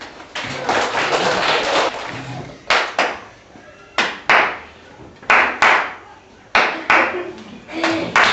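Children clap hands together in a classroom activity, starting with a sustained burst, then breaking into short separate rounds of clapping with quiet gaps between them.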